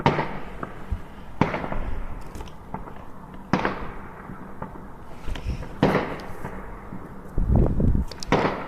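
Fireworks burst on Bonfire Night, a string of sharp bangs and crackles at irregular intervals, some near and loud, others fainter, over quiet background noise.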